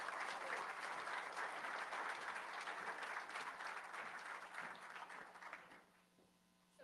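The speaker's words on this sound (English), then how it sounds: "let's give them a big round of applause for doing this" An audience at a parents' rights town hall in Maryland claps in sustained, dense applause that holds steady for several seconds, then thins and fades out near the end.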